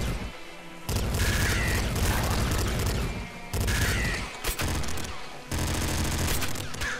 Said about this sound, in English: That is indeed a hyper pop rifle.